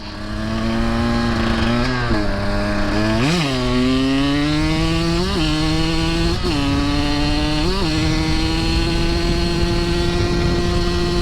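A 2023 Husqvarna TE150 two-stroke dirt bike rides single track, its buzzy engine note rising and falling steadily with repeated throttle blips and revs, loud and close throughout.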